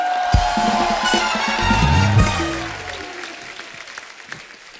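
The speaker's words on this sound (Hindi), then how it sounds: "जोरदार तालियां।" Studio audience at an Indian comedy talk show breaks into applause, a dense clapping swell that peaks and then tapers over several seconds, with a few voices and musical tones sounding through it.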